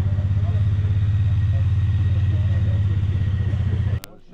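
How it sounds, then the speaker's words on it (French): A Dakar rally motorcycle idles at the ROC 2022 Axuritrail event in Occitanie. Its deep, steady, pulsing engine rumble is loud and close, then stops abruptly near the end. "Magnifique moto du Dakar"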